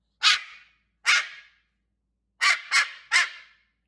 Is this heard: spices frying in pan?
no